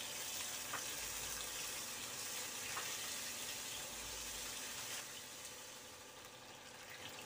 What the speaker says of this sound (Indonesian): Kita goreng ya.